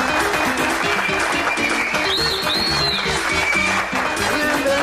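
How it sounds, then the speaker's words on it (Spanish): A studio audience bursts into applause for a guest on a television show, continuous crowd clapping with music playing underneath and a brief voice over it. "Un aplauso, señoras y señores, para Vitrina Saralegui."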